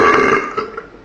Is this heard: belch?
yes